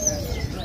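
A Java songbird kept at a bird kiosk sings loudly and steadily in a brief burst of bright, sustained calling, with low background noise underneath.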